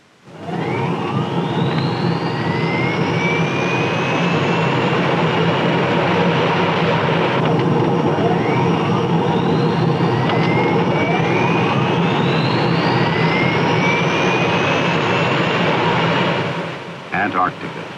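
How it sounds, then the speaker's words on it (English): Navy airplane engines on an Antarctic mission flying from McMurdo in 1968 give a loud steady roar, with repeated rising turbine whines sweeping upward over the drone before cutting off near the end. "That's right, that's Daddy's airplane."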